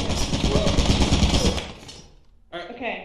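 A Lethal Company turret machine gun fires a loud, rapid rattling burst for about two seconds, then cuts out, followed by a short voice.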